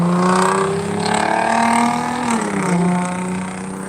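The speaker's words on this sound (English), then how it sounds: "Your car is far too noisy to be that small." Small but noisy car engine passing on a street, revving with rising and falling tones that swell loudly near the start and middle, then dip slightly as the car moves on.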